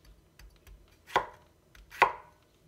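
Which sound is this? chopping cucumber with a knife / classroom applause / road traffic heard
chopping cucumber with a knife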